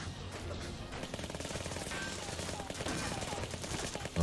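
Rapid gunfire from the Doctor Who episode Rise of the Cybermen, a dense burst of crackling shots that runs steadily for several seconds, somewhat distant and muffled.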